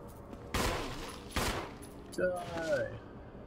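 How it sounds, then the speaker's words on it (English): Gunfire in the video game Resident Evil HD Remaster. Two sharp, loud shots ring out about a second apart, followed by a third, softer burst mixed with tonal game sounds. "I only shot him once."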